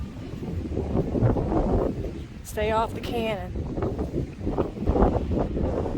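Strong wind roars steadily across the microphone at the beach at Fort Pickens in Pensacola, a constant rushing noise as a voice speaks briefly through it.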